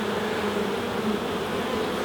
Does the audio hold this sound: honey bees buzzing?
yes